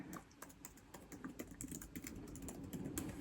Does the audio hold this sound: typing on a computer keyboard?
yes